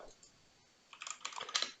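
Quiet typing on a computer keyboard while entering a command: a few isolated keystrokes, then a short quick burst of clicks near the end, with no speech.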